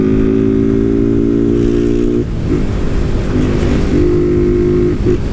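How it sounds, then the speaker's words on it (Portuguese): A Honda Titan 160 motorcycle, running with only an air filter, idles steadily with a deep exhaust rumble, then revs up and down in a couple of bursts, loud and close. "Aqui eu tô escutando bem mais o escapamento agora."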